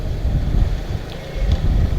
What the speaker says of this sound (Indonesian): banter banget anginnya, terus kering gitu